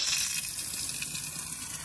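Water runs steadily from a garden well's outlet tap, a continuous close hissing gush with no voices.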